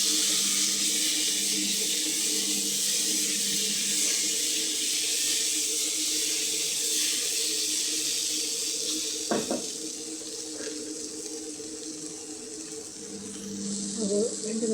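Soybeans fry in a pan with a steady, continuous sizzling hiss that fills the whole stretch, with a brief clatter near the end.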